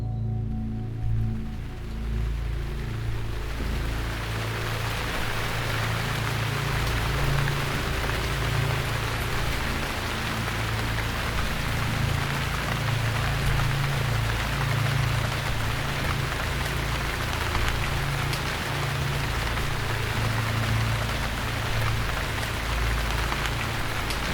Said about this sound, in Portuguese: acordei de madrugada para tomar insulina e escutei a chuva